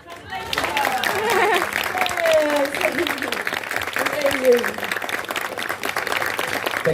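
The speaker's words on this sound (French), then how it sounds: "Give her a round of applause." Convention audience applauding a guest, a sustained wash of clapping from a crowd with a voice talking over it.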